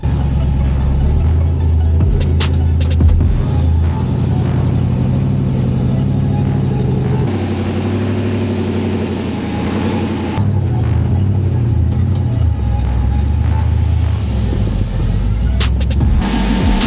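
Off-road rock crawler engine idles and revs steadily while the front tires spin and grind on a rocky trail, a loud continuous drone with surging throttle bursts throughout.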